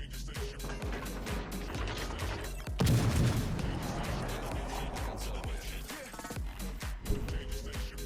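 Naval guns fire at a destroyer in World of Warships Legends, with one heavy booming salvo bursting out near the middle over a steady rumble of engine and sea noise.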